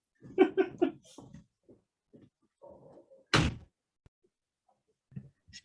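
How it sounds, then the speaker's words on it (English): A door shuts with one sharp, loud slam partway through, preceded by a few dog barks and faint shuffling and followed by a quiet thump. "Just close the door."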